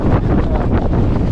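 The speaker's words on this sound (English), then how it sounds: "really, really windy, if you can't tell" Strong wind buffets the microphone at a desert campsite in Johnson Valley, California, a loud, steady roaring rumble with gusty swells throughout, no voices.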